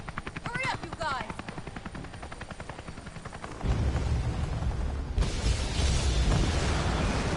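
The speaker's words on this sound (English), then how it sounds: "always the helicopters getting destroyed in these games" A helicopter is destroyed in Resident Evil: Revelations: rapid rotor chopping and gunfire give way to a sudden loud explosion and a sustained roaring blast with crackling debris, and a voice is heard early on.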